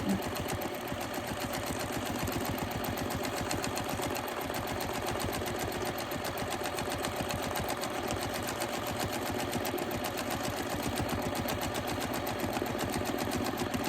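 Domestic sewing machine running steadily through free motion quilting around flower shapes, a fast continuous needle clatter with a low motor hum, close and even for the whole stretch with no talk.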